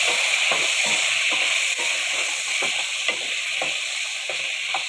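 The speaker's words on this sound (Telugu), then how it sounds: "ఒకసారి అయితే కలిపేద్దాం వంకాయని" Brinjal (eggplant) being stirred in a hot pan, with a steady sizzle of frying and a run of soft scraping stir strokes repeating about every half second, close and fairly loud, with no voices.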